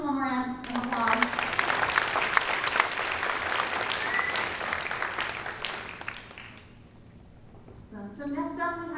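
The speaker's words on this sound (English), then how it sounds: "Can we give him one more round of applause?" A university welcome audience gives the vice president another round of applause, dense clapping that starts right after a voice, runs steadily for several seconds, thins out, and gives way to speech again.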